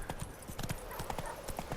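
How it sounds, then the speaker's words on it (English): Horse hooves clip-clop at a steady walking rhythm in The Witcher 3: Wild Hunt, close and distinct, with a brief whinny-like tone mixed in and no talking. "Yeah, your horse is called Roach, by the way."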